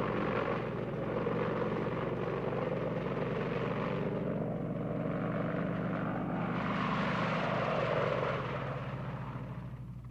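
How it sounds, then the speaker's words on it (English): An Apache attack helicopter's deep rotor drone and engine whine fill the air, holding steady before slowly fading as it moves off. "Apache attack helicopters were the only Army units to take part in the air campaign"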